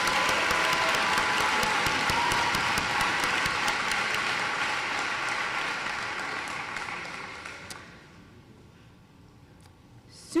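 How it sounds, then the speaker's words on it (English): Applause for a graduate at a high school commencement: a crowd claps steadily and fairly loud, then the clapping thins and fades away over the final seconds, leaving a quiet room with a few stray claps. "Give him a round of applause."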